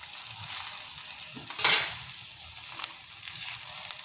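Bengali-style paratha frying in oil on a pan over medium heat. A steady close sizzle runs throughout, with one brief louder spit near the middle and no speech.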